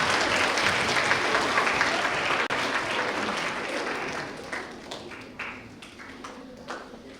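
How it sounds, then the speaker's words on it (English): Middle school students and families at the West Rocks Middle School Alpha House awards ceremony give a sustained round of applause that tapers off, leaving a few scattered claps near the end. "big round of applause for everybody who's able to get here."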